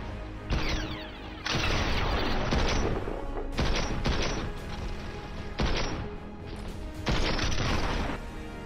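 Fortnite gunfire comes in several loud sustained bursts of rapid shots separated by brief pauses, close and dominant, with mechanical clatter in between.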